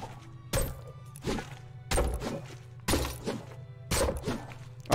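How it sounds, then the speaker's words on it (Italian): Glass ball item in Fortnite sounding off in five sharp shattering bursts at roughly one-second intervals, each a bright crash that rings briefly over a steady low hum. "non vi ho fatto ascoltare il sound di palla di vetro, ragazzi. Ascoltiamolo un po' tutti quanti assieme"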